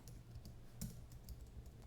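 Soft keystrokes tap on a computer keyboard entering a Linux terminal command, a few quick clicks at a faint, quiet level with no talking.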